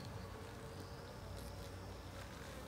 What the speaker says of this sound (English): These bees are buzzing around my ears.